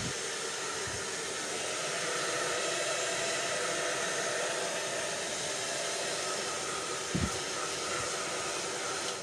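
Hair dryer blowing continuously during hair clip extension styling, a steady whooshing roar that stays even in level, with a brief knock partway through.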